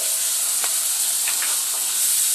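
Whole cumin, green chillies and ginger paste fry in a pan for a light fish curry, giving a steady close hiss of sizzling oil with a few faint stirring clicks.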